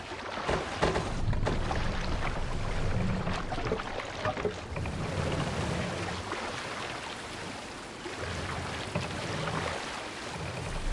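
A Viking longboat sailing in the video game Assassin's Creed Valhalla, with steady rushing water and wind along the hull, a continuous broad wash at moderate volume without talk.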